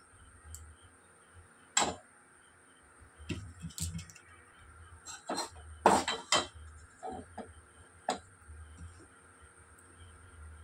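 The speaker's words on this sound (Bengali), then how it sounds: "সেই জলটাকে এর মধ্যে দিয়ে ভালো করে এটাকে গুলিয়ে নেব" A spoon stirs powdered milk into warm water in a bowl, giving scattered clinks and taps against the bowl's sides, some sharp and close, with quiet gaps between them.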